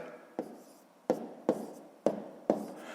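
Numbers written on paper with a pen for a fifth-grade multiplication problem, five crisp scratching strokes in an uneven rhythm, close and soft, without speech.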